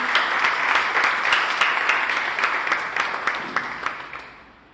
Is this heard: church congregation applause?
yes